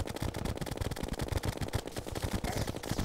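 Rapid automatic gunfire in Terraria, firing ammo that splits into more bullets on impact: a relentless stream of sharp, closely spaced shots at moderate volume, with no voices.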